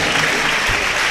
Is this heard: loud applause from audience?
yes